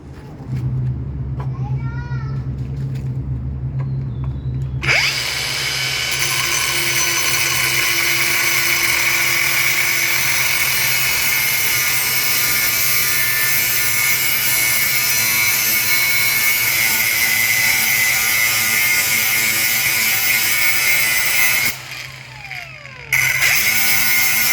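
A Keelat KAG05S angle grinder spins up after about five seconds of low hum to its top speed setting, holding a loud, steady, high-pitched whine with a brief dip near the end before it resumes.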